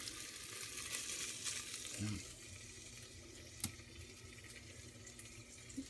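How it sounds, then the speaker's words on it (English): A soft, steady sizzle of uncured bacon ends and pieces frying in a pan, with faint crackles and a few small pops over a quiet background. "Got a little sizzle going on there."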